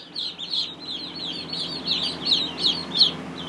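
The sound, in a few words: ducklings peeping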